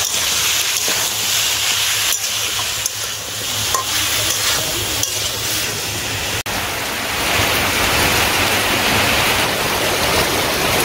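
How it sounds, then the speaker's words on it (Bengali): Steady, dense hiss of rain pouring down on a village, filling the whole stretch with a constant rushing wash and a few faint clicks. "বাবা রে বৃষ্টি রে"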